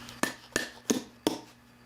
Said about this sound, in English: I've got a little block to tap it on.